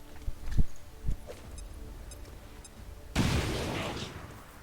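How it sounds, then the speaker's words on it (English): Grenade blast in the XCOM strategy game: a few quiet thuds early on, then a sudden loud explosion with a crackling, debris-filled tail that fades over the last second and a half. "Maybe we break the cover with a grenade."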